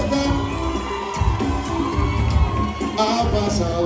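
Concert crowd at a show in Miami cheering and shouting steadily throughout, a dense roar of voices with whoops rising near the end, no clear clapping standing out.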